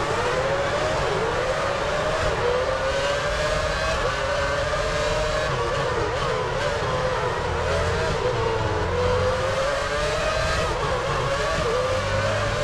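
Formula 1 race cars roar through a turn in the F1 Championship Edition racing game on PS3, a loud, continuous high engine whine with shifting pitch from several cars at once, with no voices.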